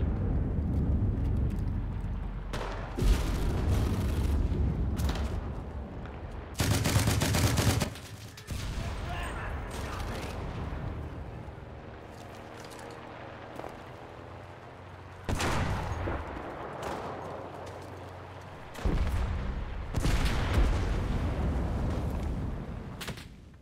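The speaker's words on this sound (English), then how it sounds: "Oh no, where are these shots coming from?" Gunfire from the video game Enlisted in its Pacific War campaign: loud, repeated bursts of shots and automatic fire, some close and some more distant, come in clusters with quieter gaps, mixed with battlefield rumble.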